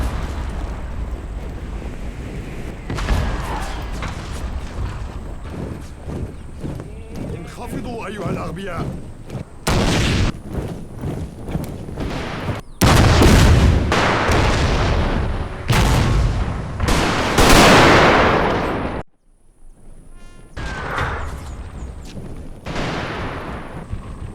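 Artillery bombardment in a Total War battle recreating the 1898 Battle of Omdurman, British guns firing heavy booms and blasts in repeated bursts, with a narrator talking over the battlefield din.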